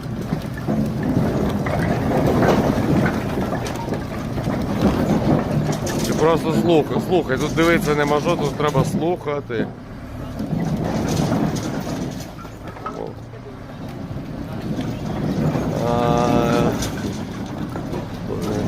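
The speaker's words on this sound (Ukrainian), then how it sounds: "Звук сухих дров, які брискотять." Dry hornbeam firewood crackles and snaps steadily throughout, while someone talks over it for most of the time.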